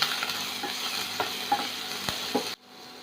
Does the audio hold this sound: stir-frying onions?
yes